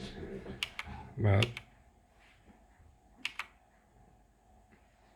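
Typing on a White Shark Spartan TKL GK-2101 RGB keyboard with red switches, soft quiet key clicks with a few sharper taps, heard close and faint alongside brief speech.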